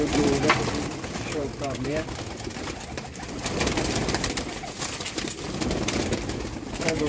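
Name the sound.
rooftop pigeons cooing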